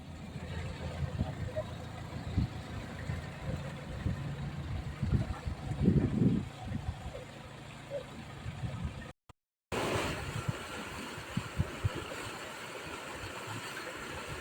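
The narrowboat Sophie chugs with a low, steady engine rumble as it eases into a canal lock, with knocks and voices over the idling drone and a short break partway through.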